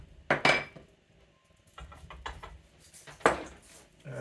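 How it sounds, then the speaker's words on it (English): A spoon stirs cheddar cheese into flour in a bowl. A few quiet clinks and scrapes come in two short bursts, with soft rustling between them. "Now we're going to stir in the cheddar cheese."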